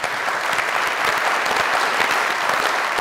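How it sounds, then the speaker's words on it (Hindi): Studio audience applause on the comedy show Mazaq Raat: a dense, steady wash of clapping that holds at full strength for the whole stretch, loud and close, with no voices over it. "आप सबकी ढेर सारी तालियों में"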